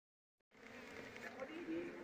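Apis cerana honey bees at an opened hive with combs being harvested give off a dense, steady buzzing hum that starts abruptly after a moment of silence and holds close and constant, with a faint higher whine above it.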